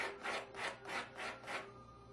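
The end of a modified fishing float is rubbed back and forth on a sanding pad, five even, soft rasping strokes in steady rhythm, close and quiet with no voices.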